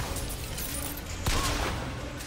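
Gunfire in the video game Bioshock Infinite: a dense wash of game noise with a sharp burst of shots near the middle, loud and close, with no clear talk over it.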